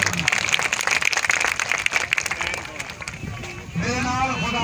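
Crowd applause at an outdoor bull-racing fair, dense rapid clapping that fades, then an announcer's voice speaks loudly over the remaining crowd noise.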